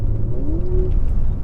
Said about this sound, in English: you get that different exhaust note in dynamic. It's definitely, you can hear the burp, you can hear the classic downshifts